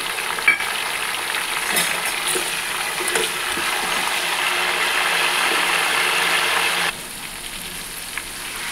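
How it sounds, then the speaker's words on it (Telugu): Onions, tomatoes and curry leaves frying in oil as the base for a spicy fish curry, a loud, continuous close sizzle with a few scraping stirs, quieting slightly near the end. "ఇప్పుడు కట్ చేసి పెట్టుకున్న 2 ఆనియన్స్ వేసుకోండి. ఇప్పుడు కట్ చేసిన 2 టమాటాలను వేసుకోండి."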